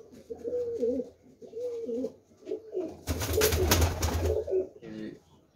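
Golden pigeons coo softly and repeatedly up close, with a brief burst of rustling or flapping in the middle.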